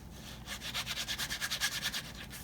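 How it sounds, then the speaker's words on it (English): Waxed leather guitar strap being burnished by rapid back-and-forth rubbing, a soft, close, rhythmic swishing of about a dozen quick strokes. "All we're going to do now is just burnish the heck out of it."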